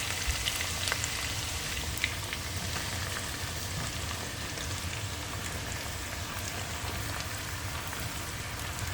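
Chopped onions frying for a chicken roast, a steady dense sizzle and crackle in a pan with no pauses, continuous and fairly close throughout.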